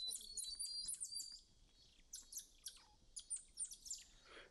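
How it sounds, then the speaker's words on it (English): Tamarin monkeys give repeated high, bright chirping food calls in quick bursts, loud at the start and then in scattered clusters of shorter chirps. "That chirping that you've been hearing this entire time is their food calls."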